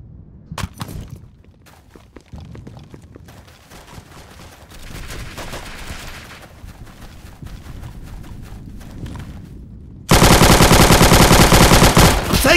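M2 carbine bursts in a first-person shooter: scattered distant shots and rattling fire early on, then a loud, sustained close-range automatic burst dominating the final seconds.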